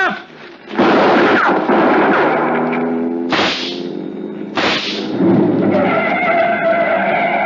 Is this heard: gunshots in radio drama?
yes